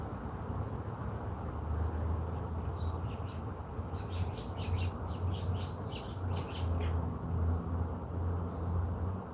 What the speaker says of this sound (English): it's like a whole bunch of birds on this playground, like they playing.